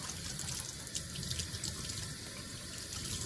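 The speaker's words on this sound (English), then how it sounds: "you always want to use hot water. Ooh, look at the water coming out there." Hot water runs steadily from a tap to rinse a cleaning cloth in a sink, a continuous close splashing hiss with slight shifts as the cloth moves in the stream.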